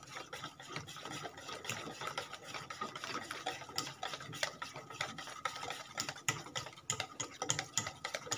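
Crepe batter of flour being mixed in a bowl, a steady rapid whisking and scraping texture that runs continuously and fairly close, with no talking.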